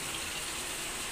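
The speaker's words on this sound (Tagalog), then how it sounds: "Na-start na natin siyang kargaan ng tubig" A Fujidenzo top-load washing machine fills with water, steady rushing water pouring continuously through its inlet, a constant broadband hiss with no voices.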